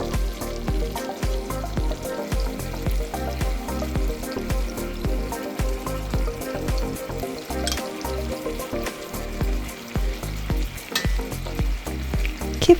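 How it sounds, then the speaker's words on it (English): Korean beef patties (tteokgalbi) frying in a pan with a sweet glaze give off a steady, close, continuous sizzle with crackling pops throughout, and no voices. "Keep flipping every now and then to prevent burning while allowing the surface to caramelize."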